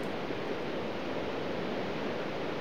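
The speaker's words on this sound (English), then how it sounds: "And I like the water drops going." Rain and dripping water in the video game Minecraft, heard as a constant, even hiss of falling drops with no speech.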